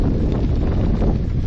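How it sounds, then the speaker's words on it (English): Strong wind buffets the microphone outdoors on open limestone range country, a loud continuous roaring rumble that never lets up. "the wind's really picking up"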